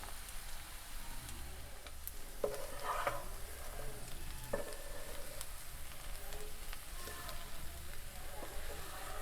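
A spoon stirs potato curry in a pan after lemon juice and chopped coriander go in, giving soft, steady scraping and faint sizzling with a few sharper clinks, close and moderately quiet.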